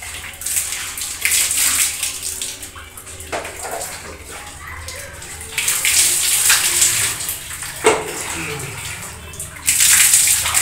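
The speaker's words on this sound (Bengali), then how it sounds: "যে গামলায় জলটা ধরে রাখছি, এই জলটা বাথরুমে ব্যবহার করা যাবে।" Tap water gushes steadily into a basin, collected for later use in the bathroom, with the flow surging louder at moments; faint voices murmur in the background.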